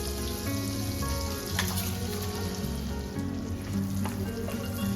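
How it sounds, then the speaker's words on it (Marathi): Whole spices sizzling in hot oil and a little butter in a pan for paneer biryani, a dense steady crackle with sharp pops throughout, close and continuous with no talk. "सर्वात आधी पॅनमध्ये ऑइल आणि थोडंसं बटर घेऊया आता घालूया खडे मसाले"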